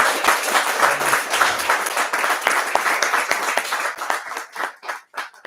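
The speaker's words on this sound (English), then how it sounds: "can we just have another round of applause?" An audience claps in a round of applause at a talk on policing, loud and dense at first, then thinning into scattered claps before fading out.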